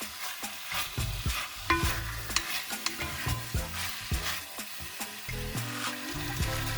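Chicken stir-fried in a pan sizzles steadily while a utensil scrapes and clanks against the metal in quick irregular strokes, close and fairly loud, with no voices.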